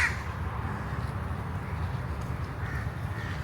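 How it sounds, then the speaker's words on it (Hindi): Birds feeding on grain in a park, with crow-like caws over a steady outdoor background hum. "और यहाँ पर हमें नज़र आ रहे हैं कुछ पक्षी जो कि दाना खा रहे हैं।"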